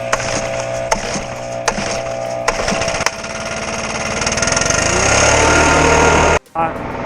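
Leaf blower clearing lawn clippings off paths and driveways, its steady roaring whine building over several seconds after a few sharp clacks, close and loud, cutting off briefly near the end.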